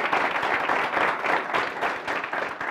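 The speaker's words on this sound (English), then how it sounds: "Give yourselves a huge round of applause." Applause from a university student audience at an event on youth views of the 2020 budget: steady, dense clapping from a large crowd, fairly close and loud, sustained without a break.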